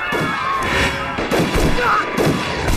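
Rapid gunfire, including machine-gun bursts, crackles through a Japanese raid on a village in an anti-Japanese war drama, dense and close, mixed with thuds and brief shouting.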